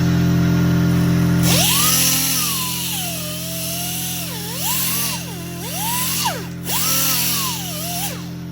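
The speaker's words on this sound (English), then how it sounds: "with your die grinder, you gotta go all around just like that" A die grinder whines loudly and continuously as it cleans the differential cover of an NA Mazda Miata, its pitch rising and dipping as the tool is worked around the cover's edge, with no talking.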